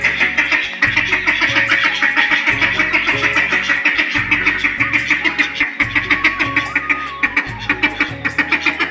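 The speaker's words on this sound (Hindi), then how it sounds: "असल में ये दोनों बत्तख आई है यहाँ पे अपने पार्टनर के लिए।" Domestic ducks, one white and two visiting from another household, quack loudly and repeatedly at close range in a steady, overlapping chorus that runs throughout.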